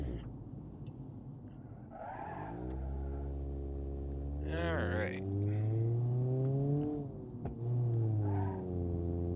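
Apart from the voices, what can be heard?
four-cylinder car engine in video game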